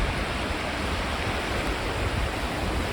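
The River Dane flows past, a dense, steady rush of moving water heard up close, loud and unbroken with no other sounds on top.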